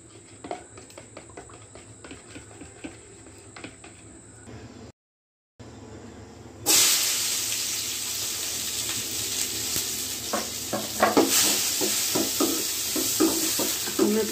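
Chicken masala with chili and salt is stirred in a hot pan for chicken do pyaza. Quiet scraping gives way to a loud, steady sizzle with clattering stirring strokes, close up, and no talking.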